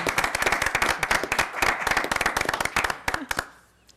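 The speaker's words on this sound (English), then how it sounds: "we will give them a round of applause" A small group at a school board meeting gives a round of applause. The claps are sharp and close, with many individual hand strikes, and they fade out over the final half second.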